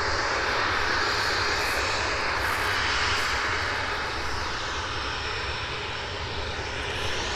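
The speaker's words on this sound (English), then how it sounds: "This one again is 737-800 series off to Alicante this morning." A Boeing 737-800 jet roars at an airport, a loud, continuous engine rumble and broadband whoosh that holds steady throughout, with no voices over it.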